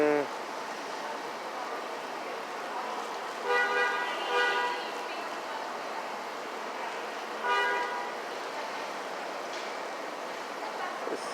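Steady traffic at a busy hospital entrance, with two short car horn toots rising above the continuous drone of passing cars.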